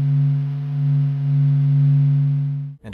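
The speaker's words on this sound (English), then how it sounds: "Then listen to our star's sounds." A sonified recording of the Sun: a deep, sustained electronic hum with a gently wavering pulse holds steady for a few seconds before stopping abruptly.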